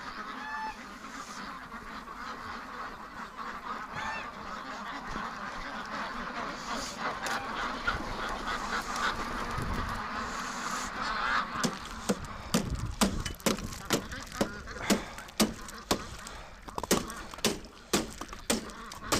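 A flock of free-range ducks and geese quack and honk nearby in extreme winter weather, the calls growing busier and louder toward the end with sharp repeated honks.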